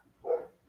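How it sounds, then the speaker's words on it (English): A puppy gives a single short, faint bark or yip from outdoors while wanting to be let inside. "oh, my puppy wants in"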